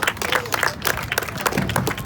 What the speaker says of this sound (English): Everybody give Shannon a big round of applause.